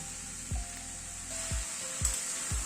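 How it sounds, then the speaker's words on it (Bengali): Fenugreek leaves and tomatoes sizzle softly in a pan, a steady frying hiss under a faint high whine, with a few low thuds of stirring at regular intervals. "এবার মেথি শাকটা দিয়ে একটু কষিয়ে নেব"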